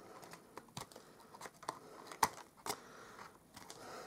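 Scissors snip through paper branch cutouts for a handmade card, a few quiet close cuts and small paper rustles in a hushed room.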